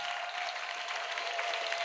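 Steady applause from a congregation at an evangelistic church gathering, a dense continuous wash of clapping at moderate distance with a faint sustained tone running underneath.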